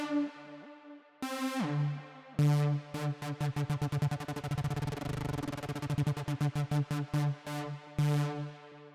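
A modulated synth lead, built in Ableton Live, plays bright harmonic notes that break into fast rhythmic gated stutters, loud and prominent with no voices.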